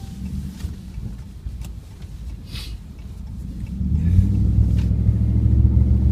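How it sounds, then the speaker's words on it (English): A 2013 Dodge Ram truck engine idles with a deep, low rumble that swells louder and heavier partway through and holds there, close and steady. "But it does have a nice rumble to it, as mentioned."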